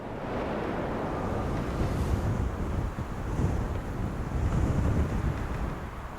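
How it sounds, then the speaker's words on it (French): Wind that has crossed hundreds of kilometres of open tundra blows steadily into the microphone, a continuous full-bodied roar with gentle gusting swells and no voices. "Le vent qui a voyagé sur la toundra depuis des centaines de kilomètres jusqu'ici"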